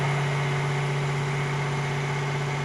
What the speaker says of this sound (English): then the combustion engine will start.